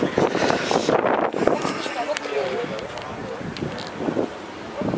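Gusty wind buffets the microphone in a rough, rumbling roar while a person speaks nearby, outdoors at a car meet.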